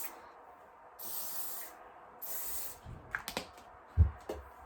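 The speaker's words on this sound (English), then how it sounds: "I always spray my Lee Stafford Moroccan Shine Spray, just to give it a really nice shine" Two distinct hissing bursts of Lee Stafford Moroccan Shine Spray, an aerosol hair spray, each about a second long, followed by a few soft handling clicks and a light thump.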